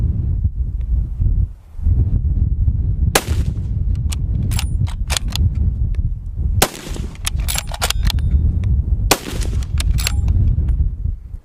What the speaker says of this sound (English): this is a heavier rifle, 26-inch barrel with the muzzle brake